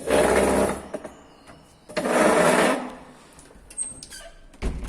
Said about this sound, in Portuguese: fechar a porta aqui